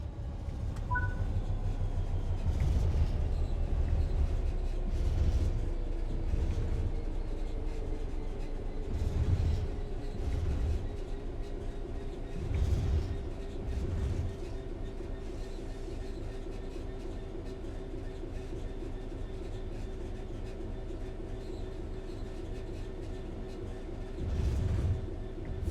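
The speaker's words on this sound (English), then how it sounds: "The train will then coast on level ground, and the train will only slow down very gradually." A train in Train Sim World 3 coasts on level ground with throttle off, a steady rolling rumble with periodic rail clacks and a long gently falling tone as it slowly loses speed, close and continuous.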